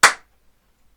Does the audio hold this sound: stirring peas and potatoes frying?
no